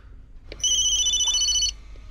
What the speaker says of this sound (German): Was für ein dreckiger Klingelton.